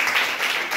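A quiz audience claps for contestants in a short, steady patter of many hands, fairly close and even, with no voices over it.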